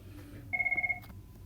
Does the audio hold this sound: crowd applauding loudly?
no